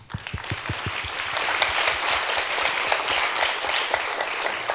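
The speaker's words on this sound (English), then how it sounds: "So a big applause to you as well and everyone I mentioned so far." Audience applause after a university English department theatre performance, a dense continuous wash of many hands clapping that holds steady for the whole stretch, with a few distinct near claps at the start.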